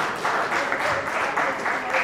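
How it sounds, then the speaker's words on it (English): An audience at a business leadership event gives a round of applause, steady and fairly close, with dense continuous clapping that rises and falls slightly over about two seconds with no talk over it. "Give her a round of applause."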